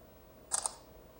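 Oukitel C23 Pro budget smartphone front camera firing its shutter for a selfie: a single quick synthetic click-snap, short and crisp against a quiet room.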